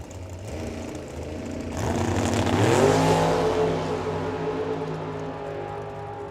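A drag racing car at Firebird Motorsports Park accelerates down the track, its engine rising to a loud roar and then holding a steady, slightly distant drone as it runs away.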